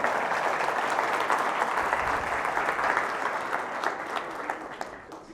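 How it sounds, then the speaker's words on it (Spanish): An audience at a church gathering applauds two young women, sustained full clapping that slowly thins and softens toward the end. "Démosle un aplauso"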